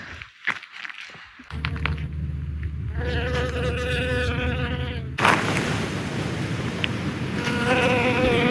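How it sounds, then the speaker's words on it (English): Flies and honeybees buzz close by around poppies in open desert, a steady droning hum that swells and shifts as insects pass near the recorder. "we hear stuff flying by. I've seen a fly and some honeybees."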